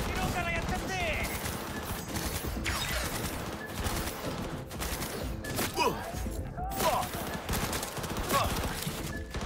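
Rapid bursts of automatic gunfire and impacts in the video game Cyberpunk 2077 crackle densely throughout, mixed with game effects and someone talking over them.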